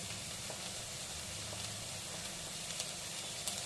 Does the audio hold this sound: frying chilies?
yes